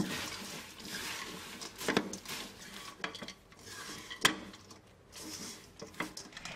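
Fried noodles tossed with honey syrup in a pot for homemade sachima, giving repeated scraping and clattering strokes of a utensil against the metal pot, close and moderately loud, with a few sharper knocks and no talking.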